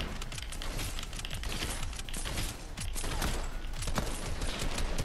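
Rapid, loud bursts of gunfire in Fortnite, with fast repeated shots layered with game effects that run without a break.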